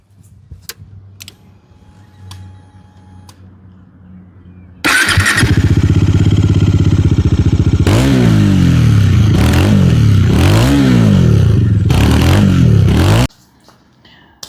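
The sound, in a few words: motorcycle exhaust, Triumph Speed 400 or Dominar 400 starting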